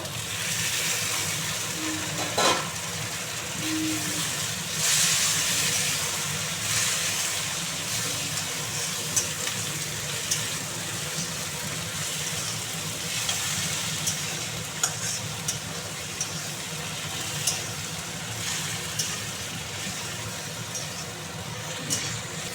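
Onions and chopped tomato fry in a pan for a mushroom curry, giving a steady close sizzle with occasional stirring scrapes and small crackles throughout, and no voices.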